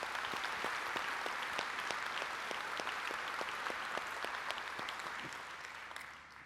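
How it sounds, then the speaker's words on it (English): Audience applause honoring donors at a Home Runs for Hospice fundraiser, a steady wash of many hands clapping with distinct sharp claps standing out, holding fairly even before tapering slightly toward the end. "if we could give them a round of applause"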